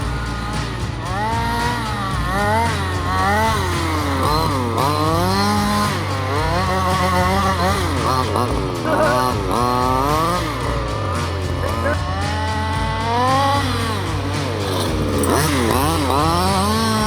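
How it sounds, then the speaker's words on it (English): An HPI Baja 5b RC car with a 32cc two-stroke engine screams loudly and continuously, its revs climbing and falling in rapid, buzzing bursts throughout, with no voices. "HPI Baja SBK with a 32cc 2-stroke engine"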